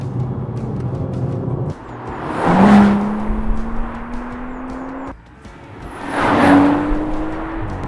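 A BMW M135i with a turbocharged six-cylinder engine drives past twice, each time rising into a loud, strong engine note with a climbing pitch as it accelerates, then fading away, with no talk over it.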